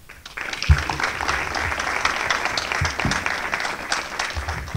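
An audience at a school's 140th anniversary ceremony breaks into steady applause, dense clapping from a large crowd in a hall that starts abruptly and carries on evenly, with no voices over it.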